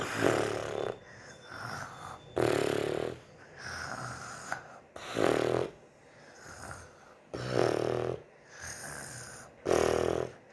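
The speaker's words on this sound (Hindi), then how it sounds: "मैं पहले दिखाती हूँ आपको कौन लंबी खर्राटे मारता है" A person snores loudly in a steady rhythm, four rasping, throaty inhalations spaced a couple of seconds apart with quieter breathing between, close and alone without talk.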